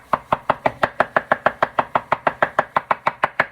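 Fresh basil being chopped on a cutting board with a knife: about eighteen crisp, evenly spaced strokes in a steady, brisk rhythm, close and clear with no talking.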